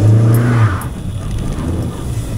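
A Hyundai Atos on winter tyres pulls away from a stop in first gear up a steep hill: a loud low engine roar at the start that eases into a rough, churning drone.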